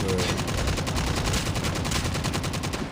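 Rapid automatic fire from the LK24 rifle in Call of Duty Mobile zombie mode, a dense, steady stream of evenly spaced shots lasting the whole stretch, loud and continuous with no talk.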